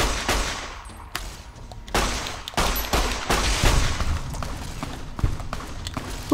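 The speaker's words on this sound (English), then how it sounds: "Who's shooting at me?" Bursts of gunfire in Fallout: New Vegas, several sharp shots and rapid volleys at irregular intervals, loud and close, with a brief footstep-like patter between them.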